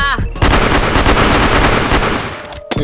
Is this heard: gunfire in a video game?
yes